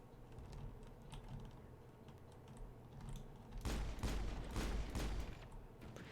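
Rapid gunfire bursts in the video game Mass Effect, starting after a few seconds of low ambient hum and carrying on as dense, loud, clustered shots through the rest.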